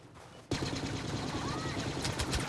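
Blaster fire from the Star Wars Battlefront video game crackles in a dense, continuous burst of rapid shots after a sudden onset, loud and busy with game action throughout.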